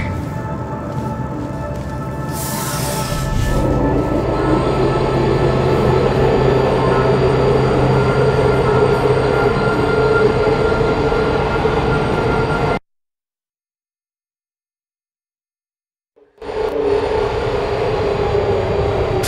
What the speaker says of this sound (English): The elevator, it wasn't going to my testing track, so I've rerouted the lift.